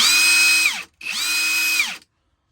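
A Hercules high torque impact wrench running in mode 3, two loud whining bursts of just under a second each separated by a short gap, each winding down at the end, close and alone.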